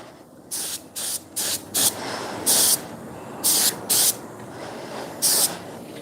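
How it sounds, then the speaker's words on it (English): A spray gun applies a light Cerakote coat to a BMW E36 M3 intake and timing cover in short bursts of sharp hissing, nine or so quick passes with brief gaps, close by over a low background rumble. "We're just doing a little light coat right now, and then we're going to come back for our second spray."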